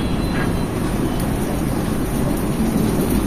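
Chopped onions fry in a pan for a meat dish, giving a steady, dense sizzle close by that continues without pause and without voices.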